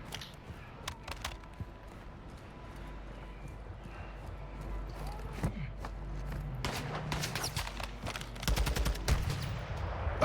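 Gunfight in the video game Call of Duty DMZ: bursts of gunfire and rattling shots over dense, busy game noise, growing louder and more intense toward the end.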